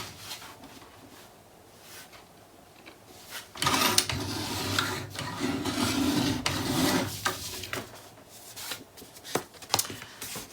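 Scrapbook paper being trimmed close by, quiet rasping and rubbing strokes that grow denser in the middle, with scattered light taps and handling noises and no speech.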